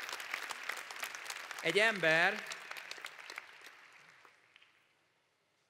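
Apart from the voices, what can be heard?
audience applause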